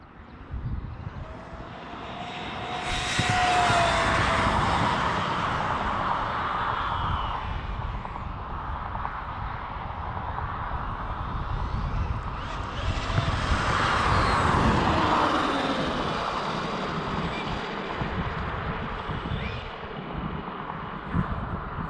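A Traxxas Rustler 4x4 VXL RC car runs at top speed outdoors, its high electric whine rising and fading as it makes two passes, with wind rumble on the microphone throughout.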